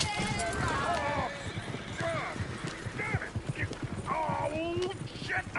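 In a Far Cry video game, horse hooves clip-clop in a rapid galloping rhythm while horses neigh and whinny, with people talking over the commotion.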